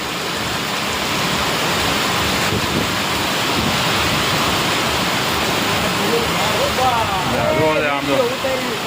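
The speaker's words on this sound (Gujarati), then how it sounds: "જો આમ જો જોરદાર વરસાદ આમ જોવો તો ખરા" Heavy rain pours down in a village with gusting wind, making a dense, loud, unbroken roar of rushing water close to the microphone. A voice talks faintly under it near the end.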